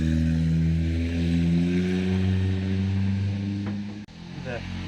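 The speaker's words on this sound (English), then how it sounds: "All that noise was from a Geo Metro." A Geo Metro engine drones loudly, humming steadily with a rough buzzing tone, pitch shifting slightly, then a brief clunk near the end.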